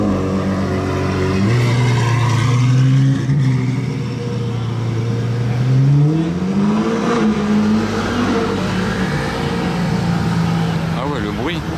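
A yellow Lamborghini Aventador S with a straight-pipe exhaust revs in Monaco, its engine note rising and falling in long, loud sweeps, with people talking over it.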